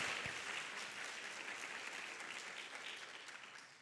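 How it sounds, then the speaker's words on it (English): An audience at a retail e-commerce showcase applauds itself, a soft, distant, even patter of many hands that tapers gradually. "give yourselves a round of applause"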